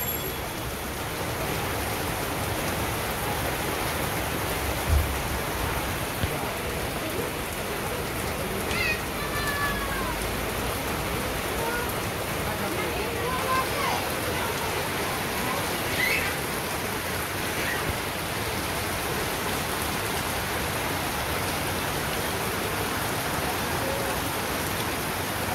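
Steady rain falling across a Bangladeshi village, a soft, even hiss of drops on surfaces all around, moderately quiet, with faint voices calling now and then in the background.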